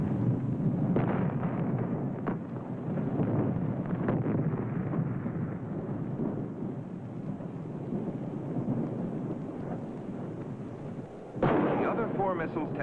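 A 1957 Thor IRBM missile launch fails and explodes: a loud, continuous roaring rumble fills the whole stretch, with a sharp fresh blast bursting in near the end.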